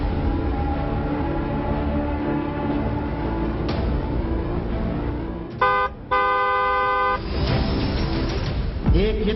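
Loud traffic noise with people talking throughout, and a vehicle horn honks in a couple of sustained blasts partway through.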